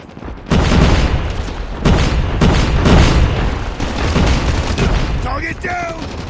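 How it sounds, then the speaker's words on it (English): In the Call of Duty Mobile game, a loud, booming explosion from a grenade erupts near the start, followed by continuous heavy rumbling and gunfire-like bursts, with game voice callouts over the top. "Grenade out!"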